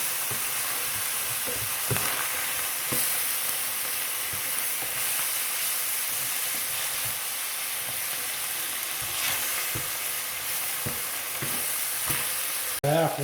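Flour being stirred into browned meat in a sizzling pan gives a steady, close frying hiss, with scraping stir strokes repeating throughout and no talking.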